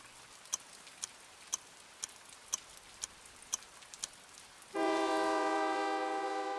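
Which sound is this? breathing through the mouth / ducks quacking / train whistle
train whistle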